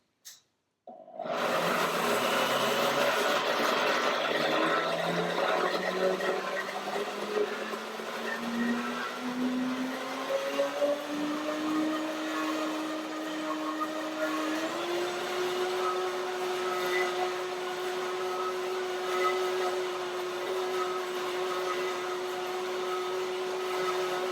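A blender runs continuously on banana and water, starting abruptly after a brief silence and holding a loud, steady whir whose pitch climbs gradually as the mixture smooths out, close by with no talking.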